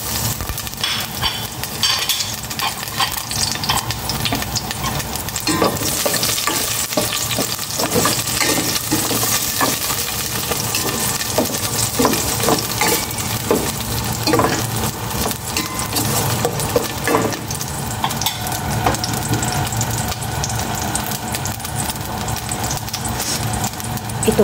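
Onion frying in a pan while making sopas for breakfast: a steady, close sizzle that runs throughout, broken by frequent clinks and scrapes of stirring against the pan.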